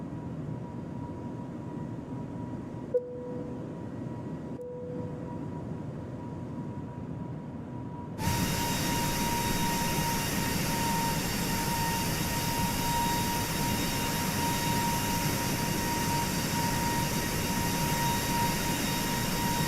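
Airbus A220-300 jet engines climbing in Microsoft Flight Simulator, a quiet steady hum and hiss that jumps to a louder, broadband roar partway through and then holds constant to the end, with no talking.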